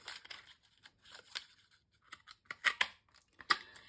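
Scissors cutting designer series paper for a card, a quiet series of crisp snips that speed up toward the end, close with no talk.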